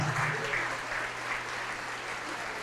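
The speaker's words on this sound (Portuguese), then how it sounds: "Olha, está vindo bastante gente, vamos aplaudir mais, glória a Deus." Church congregation applauding in steady, sustained clapping that fills the space, a broad wash of many hands with no break.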